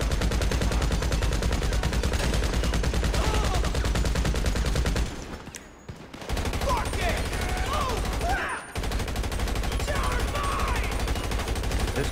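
Rapid automatic gunfire from a GTA Online mission rattles almost continuously, loud and dense, breaking off briefly twice before resuming, with scattered electronic blips and effects over the shooting.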